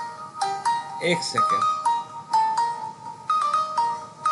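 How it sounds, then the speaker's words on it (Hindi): A mobile phone rings with an incoming call during an online Microsoft Azure class, a melodic ringtone repeating in short bursts of tones at moderate volume, with someone speaking briefly over it. "सॉरी, आपको एक फ़ोन आ रहा।"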